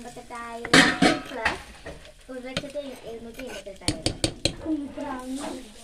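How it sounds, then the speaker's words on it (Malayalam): Grated coconut with curry leaves fries in a pan for a Kerala koottu curry, with a ladle scraping and clanking against the metal in irregular bursts over soft sizzling, close by, while a background voice or sound drifts faintly underneath. "അപ്പം തേങ്ങ നന്നായി വറുത്തെടുക്കുക"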